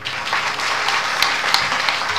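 Applause from an audience at a kirtan, a steady, fairly loud wash of clapping over about two seconds, heard alone without speech.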